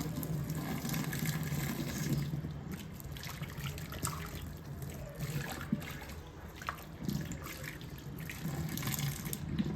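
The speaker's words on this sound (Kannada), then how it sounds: "ಆ ನೀರನ್ನು ಆ ಸೋಡಾ ಎಲ್ಲಿ ಹಾಕಿರ್ತೀನಿ ಅಲ್ಲಿಗೆ ಹಾಕ್ತೇನೆ" Hot water from a kettle pours into a kitchen sink cleaned with soda, a steady running trickle and splash heard close and fairly quiet for the whole stretch, with no voices over it.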